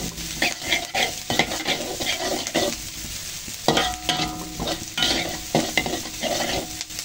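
Spices stir-fry until crisp in a pan for fried rice, a steady sizzle broken by repeated scraping and clacking of a utensil against the metal, close and lively throughout.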